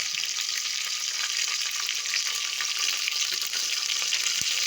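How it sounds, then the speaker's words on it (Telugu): Okra sizzles steadily in hot oil for an Andhra-style sambar, a dense, even crackle that holds at the same level throughout with no voices. "బెండకాయలు కొంచెం జిగటగా ఉంటాయి కాబట్టి ఆయిల్లో వేస్తే బాగుంది"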